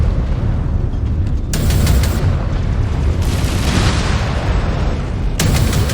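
Heavy booming blasts from incoming missiles in the MechWarrior 5 Clans mech combat game, dense rumbling explosions with bright bursts near the start, middle and end, loud and close with no talk.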